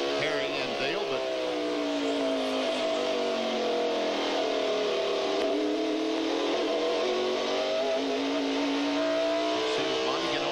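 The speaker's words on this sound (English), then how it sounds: "we'll see Bonnie get on the gas and drive away from Harry again." Stock cars racing in the 1994 Goody's 500, engines roaring steadily at high revs throughout, a loud sustained drone with shifting pitch as cars pass, and a commentator speaking over it.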